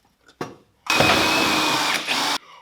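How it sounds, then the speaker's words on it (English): A power drill bores a small hole while replacing exhaust mounts on a BMW New Mini, whirring loudly at close range for about a second and a half, steady in pitch, then stopping abruptly. "I'm going to drill just a little hole to the side"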